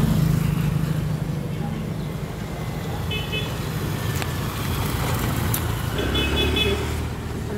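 Road traffic passing close by, a steady engine and tire rumble with short horn toots breaking through twice, and a person speaking beneath the noise.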